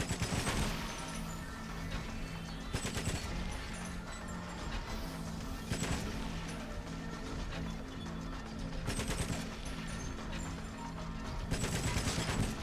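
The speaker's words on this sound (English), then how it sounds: "Pretty riveting gunfight." Constant gunfire rattles through a gunfight in GoldenEye: Rogue Agent for Xbox, with dense overlapping shots, heavy bursts and a droning game soundtrack underneath, loud and unbroken throughout.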